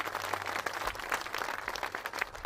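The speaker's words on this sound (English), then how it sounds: "Let's give them a round of applause for all of their hard work and their commitment." Sustained applause from an audience, a dense wash of clapping at moderate volume for the whole stretch.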